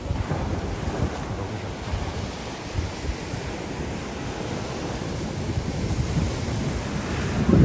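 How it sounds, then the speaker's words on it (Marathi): Strong sea waves surge steadily along the shore of Uran creek, near where fish are laid out to dry, forming a continuous loud roar mixed with gusty wind buffeting the microphone and swelling toward the end. "समुद्राच्या लाटा पण उचलतात जोर जोरात"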